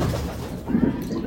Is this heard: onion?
no